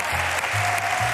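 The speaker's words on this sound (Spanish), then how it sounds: "Te voy a aplaudir yo." Clapping on a Spanish television talk show, a short, steady patter of hands heard close and alone for about a second.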